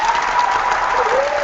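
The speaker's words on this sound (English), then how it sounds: "where's a round of applause? Do we have one? Did I download the sound effects?" A burst of crowd applause plays as a sound effect, steady, loud and dense clapping throughout the short moment.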